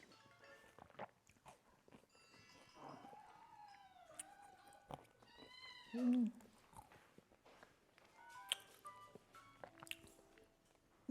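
A house cat gives a few quiet, drawn-out meows indoors, spaced apart among faint rustling and small background noises.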